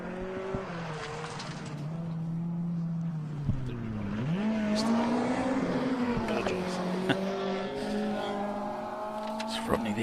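A Toyota MR2 rally car on a special stage of the 2025 International Rally of Whangārei in New Zealand, its engine rising and falling through revs as it passes, with commentators talking over it.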